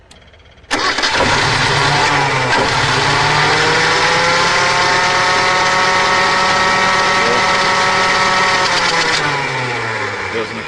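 A Suzuki engine with a spark fault runs loud and steady after a sharp start, revving and holding a high, rough drone that fills the clip with no talk.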